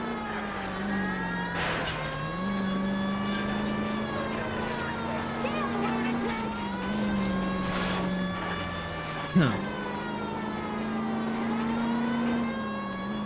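A car in the video game LA Noire races at high speed, its engine droning steadily with rising and falling revs as it shifts gears, one brief knock partway through, and no talk over it.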